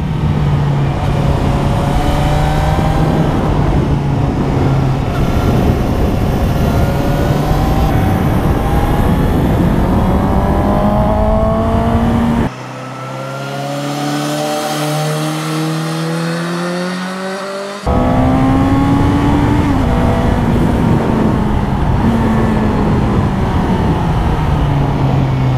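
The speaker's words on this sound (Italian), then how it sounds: "E sentite poi come ruggisce il motore." A loud Suzuki sport motorcycle engine roars steadily, pitch rising and falling as it revs through gears, with a brief quieter dip midway before surging again.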